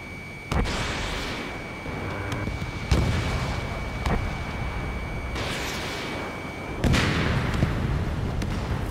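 Missiles launch from a fighter jet during aerial combat in the Ace Combat 7 video game: several loud, sharp blasts each trail off into a rushing whoosh, over a constant high warning tone.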